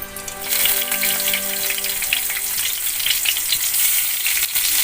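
Cooking oil sizzles in a pan on the stove as a steady, loud hiss with crackling bursts, heard close and alone, with a faint tonal hum fading out in the first two seconds.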